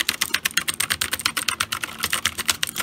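Fast, clacky typing on a Gamdias P1 RGB mechanical gaming keyboard, crisp keystrokes rattling off in a quick, continuous burst, close up.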